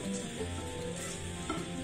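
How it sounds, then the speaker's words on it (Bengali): Cardamom, cinnamon and bay leaf frying lightly in a wok for rice pudding, heard as a quiet soft sizzle with occasional stirring scrapes, close and alone, with no talk. "এইগুলোকে আমি হালকা করে একটু ভেজে নিয়েছি যাতে এর গন্ধটা খুব ভালোভাবে পায়েসের মধ্যে থাকে।"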